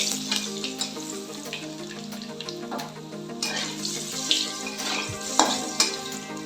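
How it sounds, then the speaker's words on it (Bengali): Potato pieces frying in oil with nigella seeds, a steady close sizzle with scattered pops and crackles and a few brief clinks, no voices. "অল্প কালো জিরে ফোড়ন দিয়ে আমি এখানে আলুটা ভেজে নিচ্ছি।"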